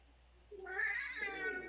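A cat meows once in a drawn-out, rising and falling cry, fairly close and clear against a quiet background, with no one talking over it.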